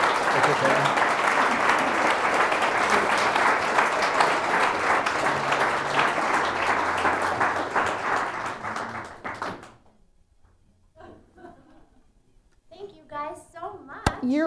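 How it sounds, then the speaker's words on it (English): A big round of audience applause for a guest at an opera picnic event, loud and sustained for about nine seconds before fading out, followed by scattered voices and someone speaking. "Please help me give Glenn a big round of applause."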